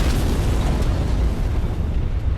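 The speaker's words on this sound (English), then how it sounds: "Got some fireworks going up in the air for me." Fireworks bursting in a video game, a dense, continuous rumble of booms and pops with heavy low-end crackle, loud and sustained throughout with no clear gaps between blasts.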